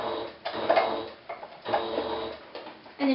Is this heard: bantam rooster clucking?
no